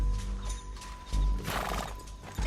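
A horse in Red Dead Redemption 2 gives a loud neigh midway, with hoof clops and game ambience around it, heard close and alone without talking.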